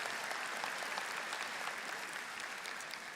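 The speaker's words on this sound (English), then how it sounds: "give a round of applause to those that are here with you today" A large crowd claps steadily at a university commencement, dense continuous applause holding at an even level throughout, heard from a distance and fairly faint.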